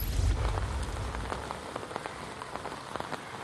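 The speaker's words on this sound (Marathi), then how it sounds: "सकाळपासून पावसाने आता मुसळधार पावसाला सुरुवात केलेली आहे" Heavy monsoon rain pours down in Mumbai, a dense, steady hiss of water hitting surfaces with scattered heavier drops, loud and continuous with no one speaking.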